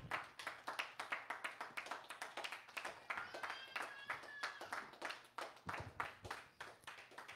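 Rhythmic handclapping from a church congregation keeps a steady, quick beat throughout, with faint voices and singing mixed softly beneath the claps.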